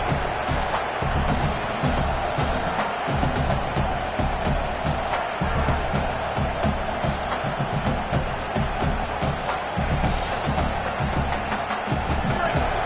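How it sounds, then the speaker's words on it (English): Football stadium crowd roaring and cheering at full volume, a dense, continuous wall of voices and whoops that stays loud and steady throughout, with no single voice standing out. "This crowd, full throat, spreading the eardrums and letting them know it's going to be a long day."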